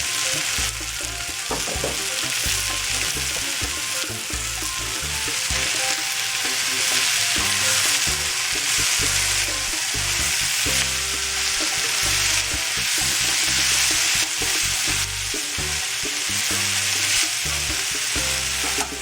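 Red cabbage and sliced apple sizzle and get stirred in a hot pan for a warm vegan salad, a continuous loud frying hiss with repeated scraping strokes of the spoon.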